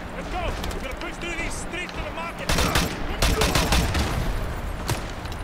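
Sniper fire in Call of Duty Modern Warfare 2 campaign, loud cracking shots and a chaotic firefight with impacts and explosions, partly under excited talk, growing heavier midway.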